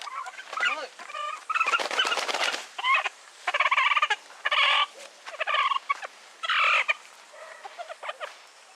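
A broody hen in a backyard coop gives repeated nasal clucks and agitated squawking calls in close, uneven bursts, with a brief flurry of louder harsh cries near the start and no speech.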